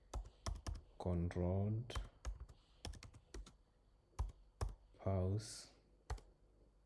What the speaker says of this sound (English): So we're gonna type